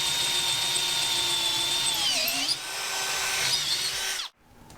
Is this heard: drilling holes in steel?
yes